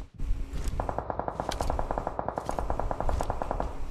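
Rapid automatic gunfire in the video game PUBG Mobile, a steady run of sharp bursts lasting several seconds, loud and close, with no talk over it.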